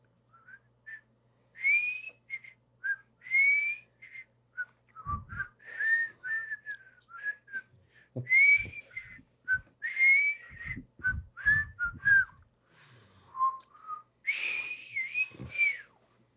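A person whistles a melodic tune, clear and fairly close, with phrases of sliding notes separated by short pauses and light thumps underneath.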